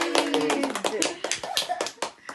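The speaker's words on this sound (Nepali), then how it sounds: "ताली बजाऊ" Hands clap at a baby shower cake-feeding celebration, a loose run of sharp claps mixed with close, lively chatter from adults and a child.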